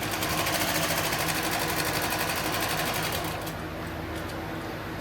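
Continuous close-up sewing machine stitching on a tactical plate carrier, a fast steady needle rhythm running the whole time with a slight drop in level near the end.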